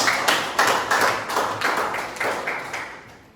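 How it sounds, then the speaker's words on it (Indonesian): A classroom audience claps in a few loose bursts, each swell of hand claps fading before the next, close and fairly loud with no talking over it. "Oke, berikan tepuk tangan."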